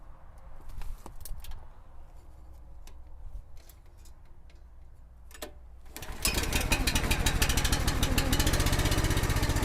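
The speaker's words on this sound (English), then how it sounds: "let's get the log splitter warmed up and fired up" A gas-engine log splitter used on ash and maple firewood starts up after some quiet handling clicks, then runs loud and close with a fast, rattling engine chug.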